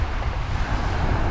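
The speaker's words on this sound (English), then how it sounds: "It's just too bloody windy" Strong wind roars and buffets over open water at a fishing spot, a steady broadband rush with surf-like noise and no voices.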